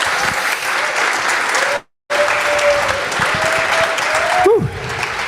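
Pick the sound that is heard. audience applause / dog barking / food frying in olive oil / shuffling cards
audience applause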